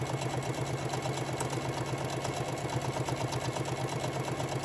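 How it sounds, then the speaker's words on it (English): A sewing machine stitches a lanyard seam at an even, rapid mechanical rhythm, a steady low whirring hum that runs continuously at moderate volume. "I am sewing about between 1/8 and 1/4 inch seam allowance on this side here."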